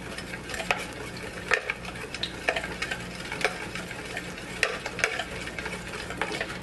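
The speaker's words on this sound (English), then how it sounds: "if you stir your marinade together a little bit" A spoon stirs a marinade for tempeh veggie skewers in a bowl, a run of soft wet swishes and light scraping clinks in an irregular rhythm, close and alone.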